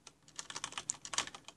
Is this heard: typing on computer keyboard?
yes